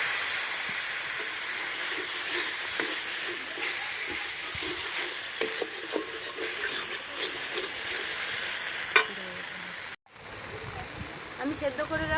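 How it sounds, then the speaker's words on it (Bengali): A splash of water hitting cumin and other ground spices in a hot pan, producing a loud hissing sizzle with stirring scrapes that runs steadily, then briefly cuts out and resumes softer near the end. "জিরে গুঁড়ো দিয়ে দিচ্ছি, আমি অল্প করে জল দিয়ে দিচ্ছি"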